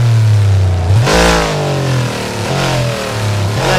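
An Audi RS6 engine revs hard and close, its pitch climbing and falling through repeated throttle blips over a steady rumble, with no voices.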